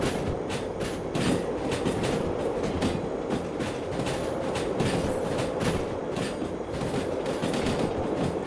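A long freight train in the Derail Valley railway game rolls steadily past, with continuous rumbling and a rapid, regular clickety-clack of wheels over rail joints, loud and unbroken throughout with no talk.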